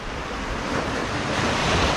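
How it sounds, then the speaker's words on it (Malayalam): Sea waves break steadily beside a shoreline house, a loud continuous wash of surf with wind buffeting the microphone and no voices. "തൊട്ടടുത്ത് കടലാണ്"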